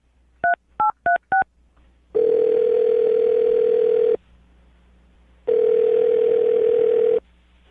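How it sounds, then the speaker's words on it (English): A phone number is keyed in as four quick touch-tone beeps, followed by two long, loud ringback tones on the line separated by a short silence. "I'm about to dial the phone number right now."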